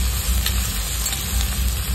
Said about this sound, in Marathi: तेल तापलेले आपण त्याच्यामध्ये जिरे टाकून घेऊया। त्यामध्ये आपण कांदा टाकून घेऊया।